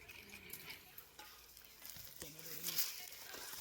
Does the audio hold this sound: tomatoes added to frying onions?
yes